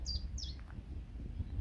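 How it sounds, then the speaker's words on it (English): Two quick high chirping song phrases from a chiffchaff in the first half second, fairly faint over a low rumbling outdoor background. "There's a chiff chaff in there."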